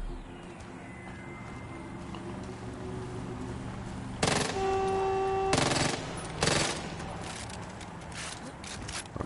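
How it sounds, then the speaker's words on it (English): Submachine gun fire in a video game, heard as loud rapid bursts in the second half, one sustained volley followed by a shorter one, standing out over a steady low background of game sound. "I kind of like this SMG now"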